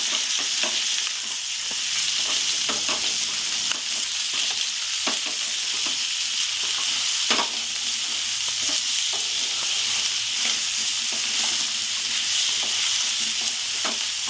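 Long-sliced onion frying together with potatoes in a pan, a loud steady hiss of sizzling oil with intermittent stirring scrapes and clicks throughout, no voices.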